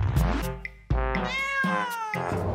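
A cat meows in several drawn-out, rising and falling calls, close and loud, with short pauses between them.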